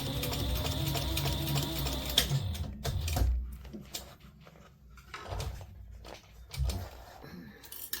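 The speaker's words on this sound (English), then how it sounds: "So now I am sewing my exterior pieces, boxing the bottoms." Sewing machine stitching and boxing the bottoms of the exterior fabric pieces of a zipper pouch, a steady mechanical whir for about two seconds, then stopping and starting in short bursts with handling clatter between.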